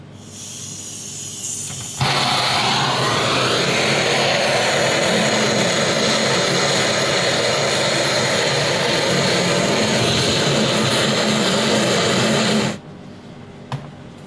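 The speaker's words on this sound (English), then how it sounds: "caramelise at the top with the help of the gas gun" A gas torch roars steadily as it caramelises sugar on top of cream, a loud continuous hissing blast that starts abruptly, holds for about ten seconds and then cuts off.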